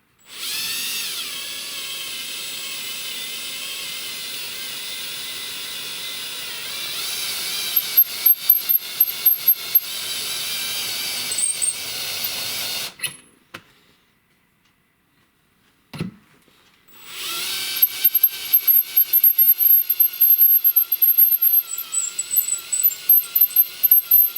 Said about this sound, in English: I'm going to put it back in my drill. I'm going to spin it between 0 and 400 RPMs